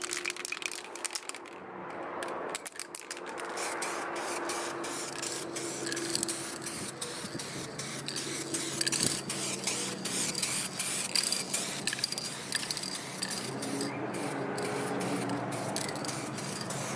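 A spray gun hisses in long, steady bursts while a second coat of paint goes onto a car bumper extension under repair, close and continuous with brief pauses.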